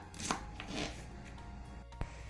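Colocasia stems being cut into pieces for a traditional Mangalorean chutney, a few quiet, sparse knife chops against a board with soft handling noise between them.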